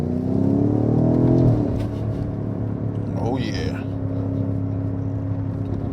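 BMW F90 M5 driving on the road, a steady engine drone and low rumble with a brief surge of revs early on, heard from inside the cabin under a short spoken remark.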